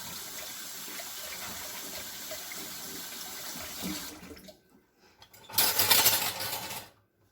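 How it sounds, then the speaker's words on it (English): Hands are rinsed under a running kitchen tap: a steady stream of water for about four seconds, a short pause, then a louder splashing gush before it shuts off. "Let me rinse my hands off."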